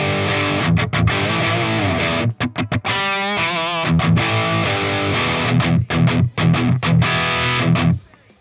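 A heavily distorted electric guitar plays through blended cabinet impulse responses, including a Diesel 4x12 cab loaded with K100 speakers, with loud chugging palm-muted riffs, sustained chords and sharp rhythmic stops.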